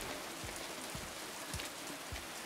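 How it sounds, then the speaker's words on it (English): Rain falls steadily in the video game Silent Hill 2 Remake, a constant wash of hiss with scattered heavier drops pattering on nearby surfaces, heard alone without speech. "we can sort of feel the raindrops on our character through the controller"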